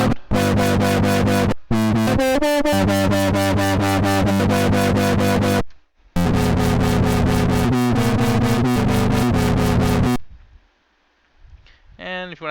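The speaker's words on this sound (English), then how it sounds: "the wave shaper putting on an initial distortion, then the filter happens, making it all wobble, and then the wobble itself gets distorted afterwards" Dirty wobble bass patch built in FL Studio 11, a wave shaper distorting the tone before a filter makes it wobble and the wobble is then distorted again. Loud, buzzing bass notes pulse in rapid rhythmic bursts across two long phrases with a short gap, then stop.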